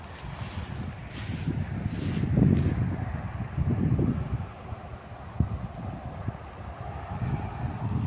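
Wind blows across the highest ground of a rural smallholding with pasture, giving gusty rumbling buffets against the microphone that rise and fall, with faint rustling and no speech.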